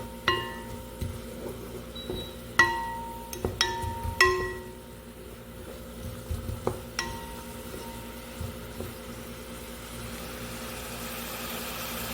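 Chopped onion frying in olive oil in a home kitchen pan, a soft steady sizzle with scattered clinks and stirring clatter of a utensil against the pot, fairly quiet and close.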